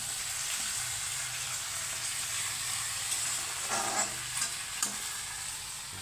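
Catla fish head frying in a pan, a steady soft sizzle and crackle with occasional louder pops and stirring clatter, no talking.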